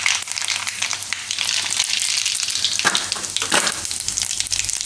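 Mustard seeds, cumin and sesame seeds sizzle and crackle steadily in hot oil in an iron pan, a dense close hiss with a few sharper pops, no talking.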